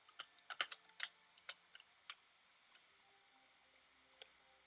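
Keystrokes on a computer keyboard, a quick burst of clicks in the first two seconds followed by a few sparse taps, fairly quiet with no talking.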